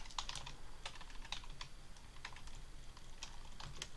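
Quick, irregular clicking of computer keyboard keys being typed, close but soft, over a faint steady background hiss, with no voices.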